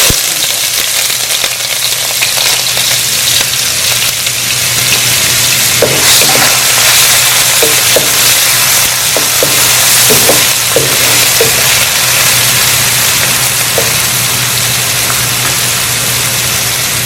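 Sliced onion sizzles steadily in hot oil for pineapple rice, a loud continuous frying hiss with a low hum underneath and a few faint stirring clinks in the middle.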